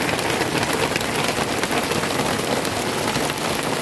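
Heavy rain pours down outdoors in a steady, dense hiss, drumming loudly and continuously on nearby surfaces without pause.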